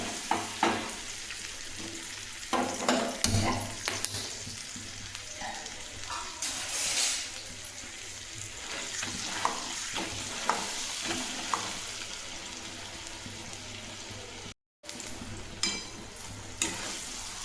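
A mashed potato filling for aloo paratha is sautéed in a pan, with a soft, continuous sizzle under repeated scraping and knocking of the spoon, louder clatters in the first seconds and one brief cutout near the end.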